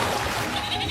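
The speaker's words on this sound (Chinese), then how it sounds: "这个是绵羊的声音" A toy car in a cartoon plays a sheep bleat, a short wavering tone that fills the one-second clip at a steady level with no pause.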